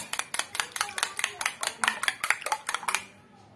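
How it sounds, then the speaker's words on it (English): Eggs and vanilla essence are beaten in a bowl for mandazi dough, with about two dozen quick, sharp taps and clinks of utensil against bowl at an uneven rhythm, close and clear, before trailing off. "I'm just going to beat them to make the vanilla essence and the eggs mix"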